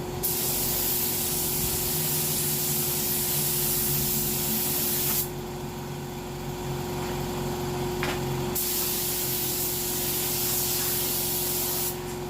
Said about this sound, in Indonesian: Oke, tak tembak tiga layer cepat.